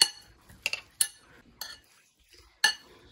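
A utensil stirs diced red and green onion in a bowl, giving a few sharp clinks and scrapes against the bowl at uneven intervals, close and fairly quiet with short silences between them.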